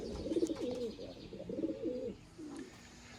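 Young racing pigeons cooing in a loft, a few soft, throaty rolling coos in bursts separated by short pauses, close and fairly quiet.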